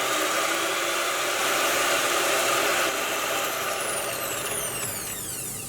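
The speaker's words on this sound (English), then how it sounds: "all we're going to do is just whisk this on a high speed" An electric mixer whisks egg yolks at high speed for a Japanese cotton cheesecake, a steady loud whirring drone, close up, with the pitch sweeping near the end as the speed changes.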